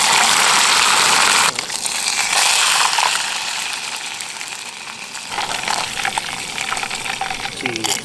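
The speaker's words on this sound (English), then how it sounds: "I filleted it, and I am going to shallow fry them. Just a tad of olive oil." Brook trout fillets shallow frying unbreaded in a little olive oil over a wilderness camp stove, a loud steady sizzle and crackle that dips and swells as the fish shifts in the pan, with no talk.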